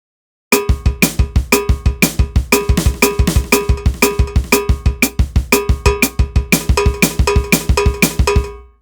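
A PolyNome app metronome plays a drum-kit triplet exercise, clicking in a steady, fast stream of sharp, evenly spaced strikes like a bright cowbell, loud and close with no talking.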